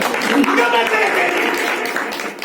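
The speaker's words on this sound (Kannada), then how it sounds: "ಚಪ್ಪಾಳೆ ತಡಬೇಕು." Church congregation clapping together at a pastor's urging during a sermon, a dense, steady patter of many hands filling the room throughout.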